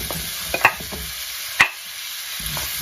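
Chicken stir-frying with carrot and other vegetables in a pan, a low sizzle broken by a couple of sharp knocks and scrapes of a spatula.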